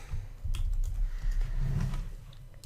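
Keys clatter on a computer keyboard as data is entered into an Excel spreadsheet, a quick run of close, light taps with brief pauses and no talking.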